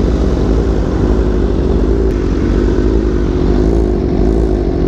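A BMW M1000RR motorcycle running on E85 fuel produces a loud, steady engine drone with a strong low hum, held continuously and close without pauses or voices.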